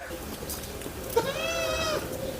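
English-colour crossbreed goats give a single drawn-out, wavering bleat of about a second, fairly close, over a busy outdoor background with faint talk nearby.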